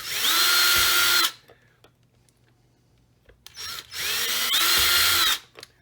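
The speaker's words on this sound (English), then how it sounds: "I'm going to drill a hole through the came." Two bursts from a small power drill drilling through lead came for a leaded glass lantern, each about a second long with a winding pitch, separated by a quiet pause with faint clicks and handling noise.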